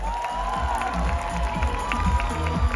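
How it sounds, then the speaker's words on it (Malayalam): A group gathered for a selfie breaks into cheering and clapping, with shouts and a crowd roar running continuously and loud throughout. "ഒരു കൈയടി ബ്രോ."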